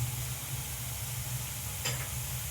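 Ginger-garlic paste fries with onions in a pan for a rohu fish kalia, giving a steady close sizzle with a single quick scrape of stirring partway through.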